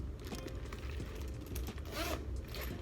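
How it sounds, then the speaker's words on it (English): A zipper is pulled open and then closed, a quiet close-up ratcheting rasp with a brighter, quicker zip near the end. "Zipper opens and closes pretty easily"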